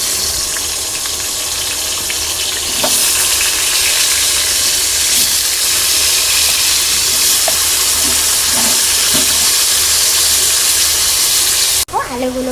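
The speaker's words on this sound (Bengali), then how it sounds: "এই তেলের মধ্যে আলুগুলো ভেজে নেব লাল লাল করে" Potato pieces frying in hot oil until reddish brown, making a loud, continuous hiss and bubbling up close, with a few faint knocks and a brief voice near the end.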